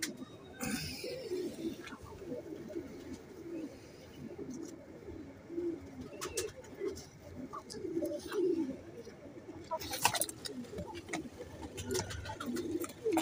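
Several Ferozpuri pigeons and a teddy pigeon coo in a steady, overlapping murmur close by, with soft wing rustles and occasional chirps throughout.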